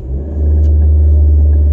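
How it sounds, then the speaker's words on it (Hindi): A 10th-generation Honda Civic engine held at high revs for a brake-boost launch with the air conditioning off, a loud, deep, steady droning rumble that climbs sharply in the first moment and then holds constant. "हम अब सिविक को लॉन्च करने लगे ब्रेक बूस्ट करके"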